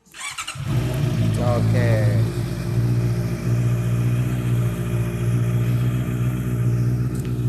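A used motorcycle at a garage cranks and fires up, then settles into a steady, loud, close idle with a low rumbling hum; a voice briefly speaks over the engine.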